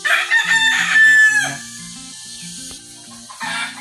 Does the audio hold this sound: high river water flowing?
no